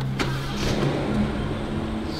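A Rolls-Royce engine starts and settles into a smooth, quiet idle, a steady low hum heard up close from inside the car, with no voices.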